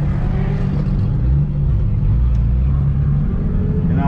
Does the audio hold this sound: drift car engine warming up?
yes